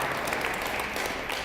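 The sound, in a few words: audience applause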